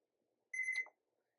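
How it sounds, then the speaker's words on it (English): A kitchen timer going off while espresso cookies bake, a single short bright electronic beeping burst that sounds once and stops, alone in an otherwise quiet room. "timer's gonna go off"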